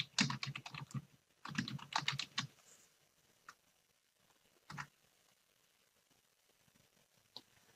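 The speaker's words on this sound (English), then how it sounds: "Type in your topic into the search box." A topic is typed into a search box on a computer keyboard, rapid clusters of clicking keystrokes up close, then a few isolated taps after a pause, with no one speaking.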